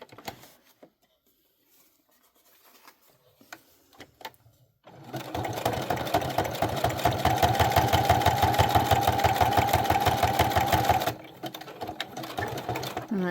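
A sewing machine stitches around a handmade Christmas candy box junk journal, its motor whirring in a steady, fast, even run for about six seconds before stopping, with quieter handling sounds before and after.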